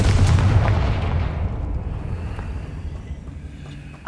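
A fiery Confringo spell explosion in Hogwarts Legacy: a loud, heavy boom at the start that rolls off into a long, fading rumbling decay.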